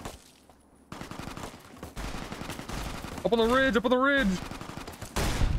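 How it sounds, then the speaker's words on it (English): Gunfire in Fallout New Vegas co-op play: sharp repeated shots crackle through the clip, loud and close, while a player shouts over them and a tonal game sound rises midway. "Yeah, I'm shooting in their direction."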